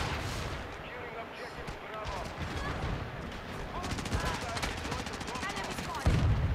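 Rapid gunfire in a Call of Duty match, bursts of shots crackling through the mix, with dense bursts toward the end and chatter layered over the firing.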